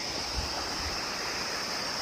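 Water from a waterfall and its stream rushes in a steady, dense wash, a continuous broadband roar with no breaks, heard fairly close and alone.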